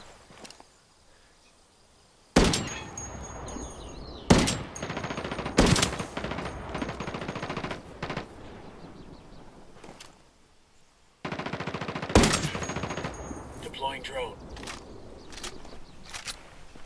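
Gunfire in a player-versus-player match of Ghost Recon Wildlands, with loud sniper rifle shots booming one at a time with pauses between them, followed by lingering echoes.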